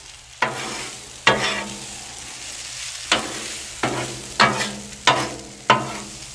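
German potato salad with vinegar cooking on a Blackstone griddle, a steady sizzle punctuated by seven sharp metal spatula scrapes and flips at uneven intervals, close by with no speech.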